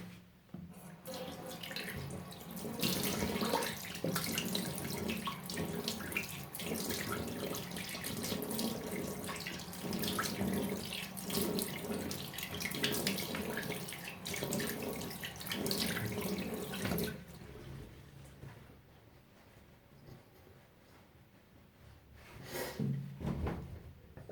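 Running tap water splashing steadily into a sink as the face is rinsed after a traditional shave, with shifting splashes for about seventeen seconds before it stops, followed by a few faint knocks; no talking.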